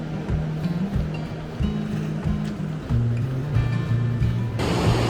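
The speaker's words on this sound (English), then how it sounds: "And here it is, the mighty Colorado River." The Colorado River flows at the bottom of the Grand Canyon, a steady broad rush of water heard up close beneath a low, tonal background.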